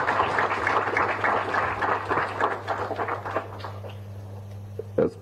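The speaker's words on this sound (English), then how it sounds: "Another round of applause, ladies and gentlemen." Audience applause at a business dialogue event at the Mutebile Centre of Excellence, a dense wash of many hands clapping from a crowd that gradually thins and fades toward the end, with a steady low hum underneath.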